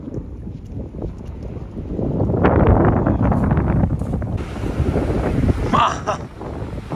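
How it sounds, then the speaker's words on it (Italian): Strong ocean wind gusts buffet the microphone on the Maspalomas beach dunes in Gran Canaria, a loud continuous roar swelling midway, with surf-like rushing and faint voices underneath. "Senti il vento già che c'è."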